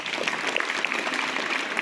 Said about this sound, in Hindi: इस आदमी के लिए जोरदार ताली होना चाहिए।